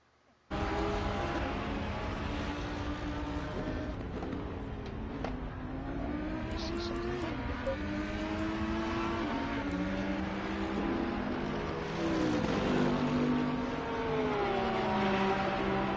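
Race cars in Assetto Corsa Competizione at Donington, PS4, roaring continuously at close range with layered engine tones shifting up and down through gear changes, steady and loud throughout.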